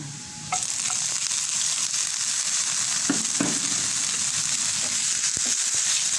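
Red onion with a pinch of salt drops into a pan of browned garlic and immediately bursts into a loud, steady sizzle, with a few utensil knocks, close up and without speech.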